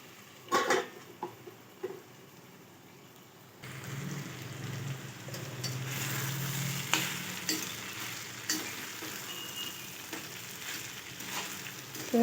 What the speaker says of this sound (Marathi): आता हे मंद आचेवर आपण छानसं असं शिजवून घेऊ